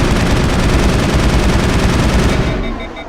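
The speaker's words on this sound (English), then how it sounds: "And you fire your weapon" In Mass Effect, a player's weapon fires a loud, unbroken automatic burst for over two seconds at close range. It then cuts off and trails into a brief electronic hum, with no voices.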